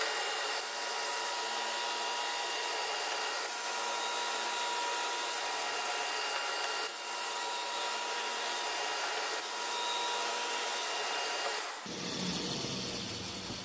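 A Flatmaster drum sander makes a steady, loud whirring drone as it sands passes across a wood board, continuous throughout, with a sharp change in tone near the end.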